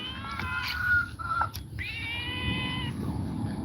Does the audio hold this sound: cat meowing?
yes